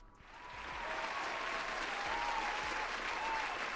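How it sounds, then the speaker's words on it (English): An audience breaks into a round of applause that builds over the first second into a steady wash of many hands clapping, continuing evenly to the end. "Give him a round of applause."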